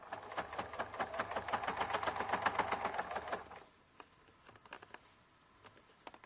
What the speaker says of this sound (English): Now I'm just going to stitch along that nice crease that I have to add my row.